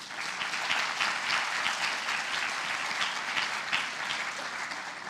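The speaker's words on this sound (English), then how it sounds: "Please give them a round of applause." Steady applause from an audience at a community awards ceremony, dense continuous clapping with no voices, holding at an even level throughout.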